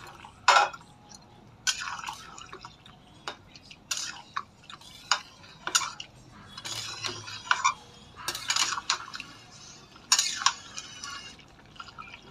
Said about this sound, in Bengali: তো আমি এখন দিয়ে দেব জলটা আমি বেশি দিব না, অল্প দেব